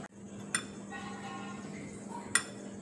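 Flour, salt and cornflour are stirred together in a bowl, marked by two sharp metallic clinks of a utensil against the bowl over a quiet background.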